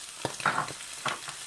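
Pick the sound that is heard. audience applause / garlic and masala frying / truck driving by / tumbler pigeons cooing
garlic and masala frying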